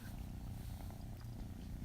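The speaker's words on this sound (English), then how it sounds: "Can you stop purring for a minute?" A cat purrs loudly and continuously close to the microphone in a quiet room, a steady rhythmic rumble with no talking.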